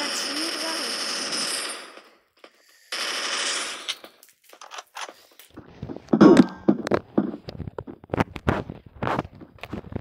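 Two long bursts of automatic gunfire, then a scatter of sharp single shots and clattering impacts, loud and close, in a game.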